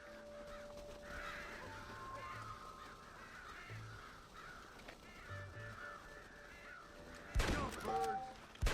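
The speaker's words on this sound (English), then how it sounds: "God damn crows!" Crows caw repeatedly in Red Dead Redemption, several harsh calls over a low outdoor ambience, followed near the end by a loud burst of gunfire.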